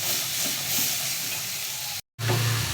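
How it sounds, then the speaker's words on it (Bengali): Spice paste frying in a pan with a splash of water, a dense steady sizzle and soft stirring up close, broken by a brief cut to silence before the hissing resumes, without talk. "জলটা দিয়ে কষাবো একটু, তাতে মশলাটা লেগে যাবে না"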